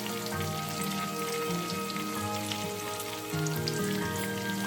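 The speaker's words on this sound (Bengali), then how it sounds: "পনিরটাকে একটু কষাই" Paneer sautéing in a pan with green chillies for a coconut posto dish, a steady dense sizzle running continuously at moderate loudness with no voices.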